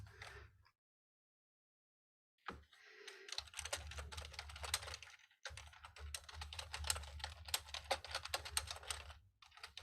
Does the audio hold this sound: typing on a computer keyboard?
yes